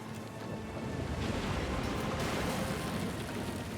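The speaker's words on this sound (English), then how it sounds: "The storm picks up, lashing your ship and driving you dangerously close to a rocky shore." A storm lashes a sailing ship in Pillars of Eternity 2, a steady roar of wind, rain and surf that stays loud and unbroken throughout.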